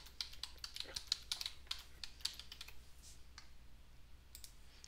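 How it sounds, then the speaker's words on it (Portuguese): Soft, quick clicking of keys as a password is typed on a computer keyboard, a rapid irregular patter of close, quiet keystrokes that trails off into a few final taps. "Então eu vou digitar aqui a que eu configurei."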